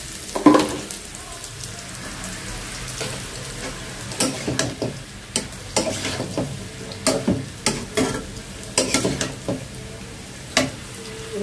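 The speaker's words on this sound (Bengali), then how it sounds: "পেঁয়াজটা ভাজা হয়ে গেছে" Onions frying in oil in a pan, a continuous sizzle punctuated by repeated sharp scrapes and taps of a spatula stirring, close and fairly loud with no talking.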